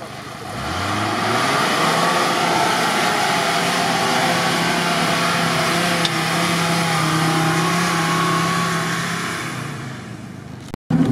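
A Lada Niva engine revs hard and steadily while climbing off-road, a loud, sustained mid-pitched roar that rises at the start, holds strong for several seconds, then cuts off abruptly near the end.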